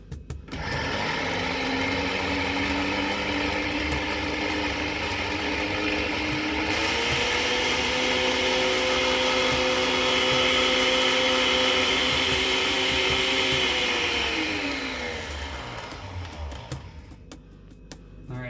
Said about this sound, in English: Time to grind it a second time.